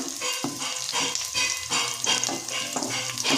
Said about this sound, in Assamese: এতিয়া পিঁয়াজখিনি হৈ গৈছে মোৰ ভাজা